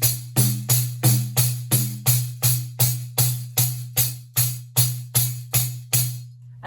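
A pandeiro plays a steady stream of even, evenly spaced strokes, each a low drumhead thump with a bright jingle shimmer, close and solo, fading slightly at the end.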